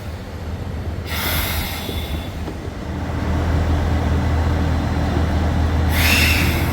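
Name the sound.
train at Nakasendo station in Japan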